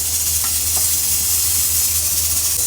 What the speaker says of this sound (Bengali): আম্মু মশলা কষায় একবারে মাংস দিয়ে দিছে কড়াইতে